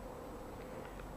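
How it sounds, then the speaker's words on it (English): Bees buzz among foxgloves in a summer garden, a faint steady hum with no talk, soft and somewhat distant across the short stretch. "Everywhere we've got bees."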